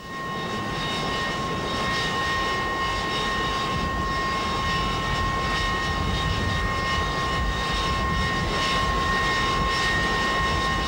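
A Harrier jet taking off from a carrier flight deck ski jump ramp: a continuous, loud jet engine roar with a steady high whine holds throughout, with no voices over it.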